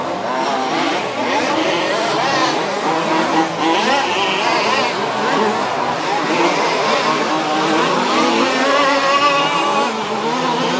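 Several 2WD off-road RC cars in an OR6 German championship final race around the track, their electric motors whining in a dense, continuous layered buzz that rises and falls as they pass, loud and steady throughout.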